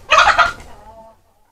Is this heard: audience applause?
no